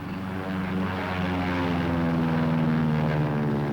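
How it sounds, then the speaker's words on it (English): Propeller-driven Army training airplanes practicing short field landings and takeoffs, a loud steady engine drone with strong low harmonic bands that swell slightly as a plane passes close by, with no talking. "these planes are practicing short field landings and takeoffs"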